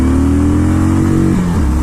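A Yamaha MT-07 motorcycle pulls away from a standstill, its engine droning loud and close with a steady rising pitch, then briefly dipping as it shifts gear.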